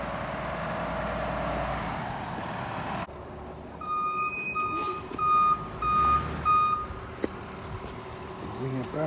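A tow truck arriving at the scene of a crashed Toyota Matrix XR, with an idling diesel rumble and then a steady series of high reversing beeps repeating over the engine noise, fairly close.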